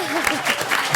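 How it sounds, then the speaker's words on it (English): A town audience at a city commission meeting claps steadily for a guest of honor, a dense continuous patter of applause with a voice briefly heard over it. "So let's give him a round of applause."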